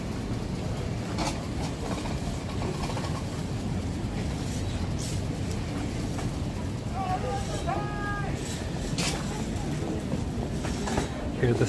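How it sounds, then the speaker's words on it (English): A continuous low rumble and rattle of a train rolling past on tracks overhead in Tokyo, heard from the street below, with a steady clatter and brief squealing tones partway through. "there's lots of trains passing just above here, making it a bit of a noisy place"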